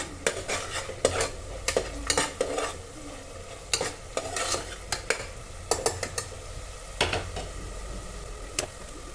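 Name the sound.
frying and stirring in a pan for tomato bath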